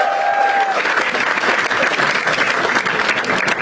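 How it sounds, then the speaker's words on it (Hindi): Loud, continuous applause from a comedy-show crowd, with a short whistle or cheer at the start, the clapping dense and even all the way through. "एक बार आवेश के लिए ताली बजा सब।"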